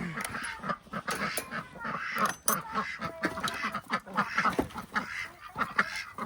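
Free-range ducks quack loudly and in a dense overlapping stream near a farm during morning chores, with other poultry such as chickens and turkeys about and no talk over the calls.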